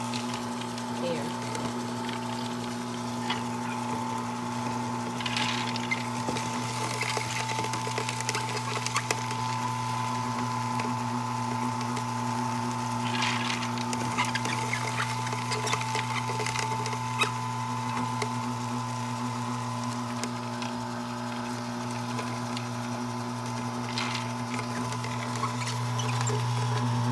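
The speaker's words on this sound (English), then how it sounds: "So we're putting the dal here, and then it's gonna grind and come out very fine the way you want it." An electric grinder milling dal lentils runs as a steady droning whir with a gritty grinding texture throughout, close by, with occasional clatter.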